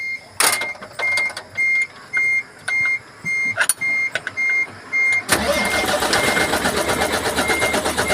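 A Mitsubishi 6M70 diesel engine, 2020 model with low power, being started, with repeated short starter cranking bursts before it catches and settles into a loud, steady, rough idle close by.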